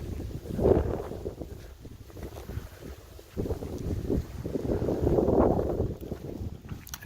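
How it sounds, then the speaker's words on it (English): Wind blowing at a quiet Cabo San Lucas resort, a rough, gusty rumble buffeting the microphone that swells twice and then eases, steady and fairly loud with no voices. "You hear the wind."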